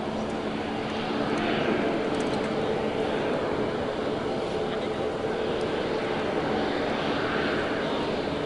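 Airbus A350 jet engines rolling out after landing, a steady loud broadband roar that holds level throughout with a faint high whine, close and continuous with no pauses.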